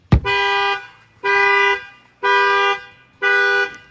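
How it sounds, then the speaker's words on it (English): A sharp bang on the window of a 2026 Ram 1500 RHO triggers the factory shock-sensor alarm: four loud, evenly spaced electronic horn blasts, each about half a second long, close by. "I'm going to go ahead and bang on the window, and that will fire off the alarm."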